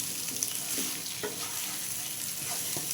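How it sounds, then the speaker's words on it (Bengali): Spices, papaya and mung dal stirred and sautéed together in a pan, with a steady soft sizzle and a few scraping strokes of the spoon, close and moderately loud, no talking. "ভালো করে নেড়ে চেড়ে কষিয়ে নেব মশলা আর পেঁপে ডাল একসাথে"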